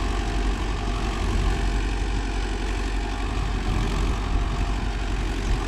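A Mahindra Yuvo Tech Plus 585 4WD shuttle-gear tractor runs steadily in a field with a 5-point cultivator, its loud, close engine drone holding even and continuous throughout.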